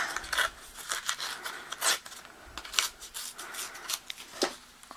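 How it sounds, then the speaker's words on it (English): Paper card stock is torn by hand in a series of short, crisp rips and rustles, close and alone, with brief pauses between pulls. "at the very bottom, I'm going to just take and tear."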